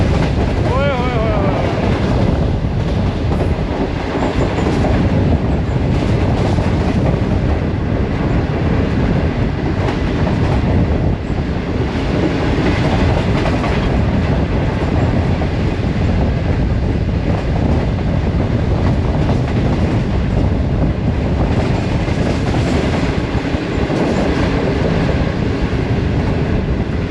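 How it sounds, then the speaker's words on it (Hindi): A Green Line passenger train runs at about 105 km/h through Sahiwal railway station, a loud, continuous rumble and roar with clattering wheels that stays heavy and close for the whole stretch. "ऑलमोस्ट 105 किलोमीटर फी घंटे की रफ्तार से साहिवाल रेलवे स्टेशन से पास थ्रू किया है 5 अब ग्रीन लाइन ने"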